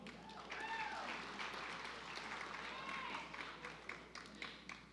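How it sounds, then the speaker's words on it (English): Moderate applause from a crowd at a fire department recruit academy graduation, steady clapping with a few louder claps standing out near the end, and a voice speaking over it. "Clap if you want to."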